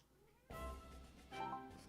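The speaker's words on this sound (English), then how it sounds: "Meow, meow, she says." A cat named Tilly meows twice close by, one drawn-out call followed by a shorter second meow.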